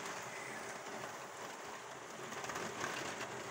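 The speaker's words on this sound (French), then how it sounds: "c'est de la forte pluie là" Heavy rain pouring steadily during a storm in Villers-Bocage, Normandy, a dense continuous hiss with no thunder, fairly quiet and unbroken throughout.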